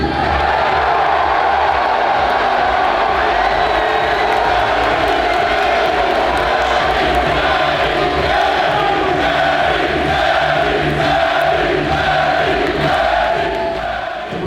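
A packed hall of fans roars with sustained cheering, whoops and applause for Eddie, a former Chicago all-star and MVP candidate, the crowd noise loud and unbroken throughout with no clear speech above it.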